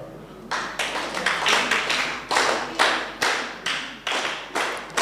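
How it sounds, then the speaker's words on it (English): An audience at a memorial lecture claps together in a distinctive rhythmic pattern, loud synchronized bursts of hand claps repeating about every half second, with no talking. "who remembers the Moi clap?"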